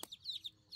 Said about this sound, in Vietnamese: Con gà mập nhỉ mẹ nhờ.